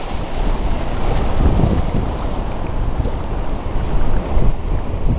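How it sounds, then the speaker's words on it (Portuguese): Ocean waves breaking on rocks at Praia do Santinho in Florianópolis, a continuous rushing wash of surf with heavy wind buffeting the microphone, fairly loud and unbroken with no talking. "Opa, se encontrou as ondas aqui"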